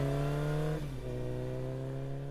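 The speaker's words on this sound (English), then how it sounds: "It's a car. It goes vroom vroom." A car engine in a song revs loud and steady, dips briefly, then holds its drone again, woven into the music's sustained synth tones.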